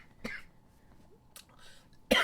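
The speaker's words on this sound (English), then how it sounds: "Dry cough." A few short, dry coughs in a quiet room, separated by pauses, with a sharper burst at the end.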